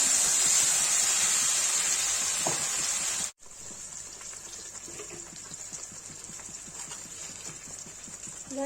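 A paste of onion, ginger, garlic, black peppercorns, cloves and cinnamon sizzles hard in a pan with cumin, a bright hiss that cuts off abruptly, then a quieter crackle with light scraping and clatter continues.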